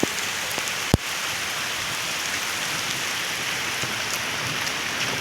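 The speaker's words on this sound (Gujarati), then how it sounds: "ઓછો છે વરસાદ, બહુ એટલો બધો કંઈ ખાસ જાજો છે નહીં." Light summer rain falls in a steady, even hiss, with one sharp click near the start and no voices.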